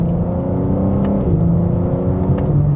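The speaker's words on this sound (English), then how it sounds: "So let's put it into the quickest shifts now from third gear." A BMW M4 Competition engine pulls hard from third gear through quick shifts, giving a steady loud drone heard from inside the car, with its pitch stepping as gears change.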